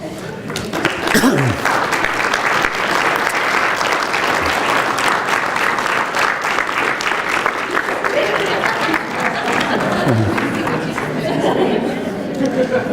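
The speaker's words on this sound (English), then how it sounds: "So I'm hoping they would stand up and you give them a round of applause." Audience applause at a speakers series presentation fills the room steadily from start to finish, dense clapping with some crowd chatter and voices mixed underneath.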